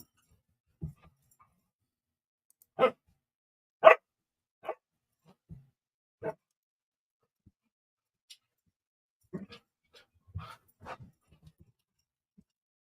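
Dogs barking indoors in a room, a handful of sharp, separate barks and yips spread across the stretch with quiet gaps between them, fairly close.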